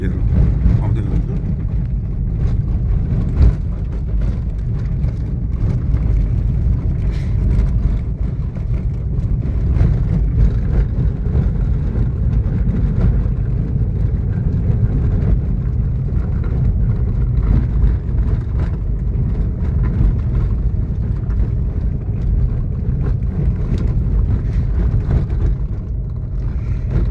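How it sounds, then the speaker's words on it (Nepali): A motorcycle carrying two riders comes along a rough, bumpy road, giving off a continuous low engine rumble mixed with dense road noise that stays even and loud throughout. "उताबाट सायद एउटा मोटरसाइकल दुईजना भाइहरू आउँदै हुनुहुन्छ।"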